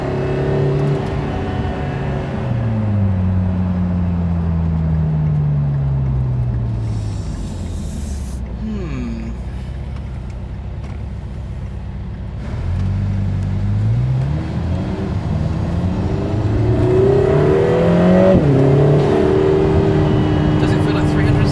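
A car on a wet road test accelerates through the gears, its loud engine note climbing and dropping with each shift, then easing off before rising again under conversation.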